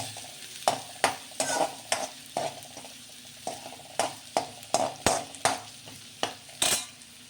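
Onion fries in a pan for matki bhaji, a soft steady sizzle broken by regular scraping strokes of a spoon stirring, close and fairly quiet with no talking.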